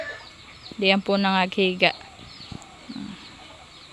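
Backyard chickens give a quick run of close, loud, rhythmic clucks, followed by a softer cluck. A person speaks briefly alongside them.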